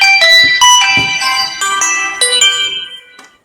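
A mobile phone ringtone plays alone, loud and close, as a bright melodic run of electronic tones that steps up and down for about three seconds before fading out.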